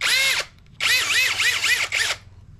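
A Dongcheng power drill whines loudly in three close bursts, its pitch rising and falling as it spins up and slows, with short pauses between runs.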